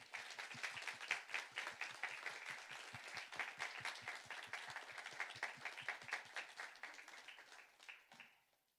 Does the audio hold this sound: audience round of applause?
yes